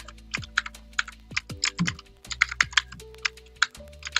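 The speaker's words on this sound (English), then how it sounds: "I'm not typing fast enough" A computer keyboard clacks under quick, uneven typing, with close, crisp keystrokes in short bursts and a few heavier thumps, loud and dry with no talk.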